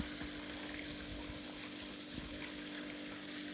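Water runs continuously into a stepwell at a temple in Kutch during cleaning work, a steady gushing flow with a faint mechanical hum, close and unbroken, with no talking.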